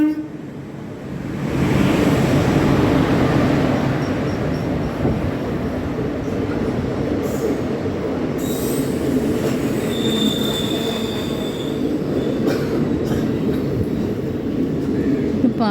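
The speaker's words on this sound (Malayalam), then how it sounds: "ട്രെയിൻ വന്നു കേട്ടോ. ട്രെയിൻ വന്നു തുടങ്ങി." The Palaruvi Express passenger train pulls into a station, wheels rumbling and squealing on the rails with a loud, continuous roar and occasional sharp metallic screeches.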